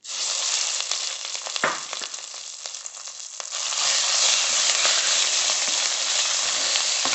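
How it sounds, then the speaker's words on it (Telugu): Ground spinach chutney hits a hot tempering of curry leaves and turmeric in a pan and sizzles loudly, with sharp crackling bursts early on settling into a steady, intense frying hiss. "తాలింపులోకి నూరు పెట్టుకున్న పచ్చడిని వేసేసుకుందాం."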